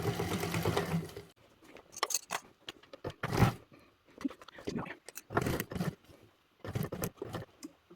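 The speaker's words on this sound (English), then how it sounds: "So try not to actually sew on top of the staple" A sewing machine stitching fabric for a Travelnizer travel organizer, several bursts of rapid mechanical whirring separated by short pauses, close and loud, with a brief stretch of rustling at the start.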